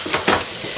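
Dumpling-soup ingredients with sausages frying briefly in a pan: a loud, close hiss of sizzling oil with a quick stirring scrape partway through and no voices.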